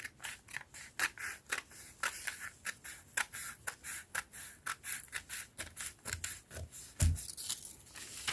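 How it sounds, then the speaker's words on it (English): Scissors snip steadily through fabric while cutting the back armhole of a bell sleeve, a close, regular run of crisp blade closes with a soft thump near the end. "Cut the back armhole first."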